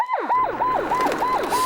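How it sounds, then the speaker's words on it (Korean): A loud siren near an airport, used to scare flocks of birds away, wails in repeated rising and falling sweeps at close range with no voices. "공항 인근 민가가 밀집한 지역에서는 총 대신 사이렌을 울려 새를 쫓는데요"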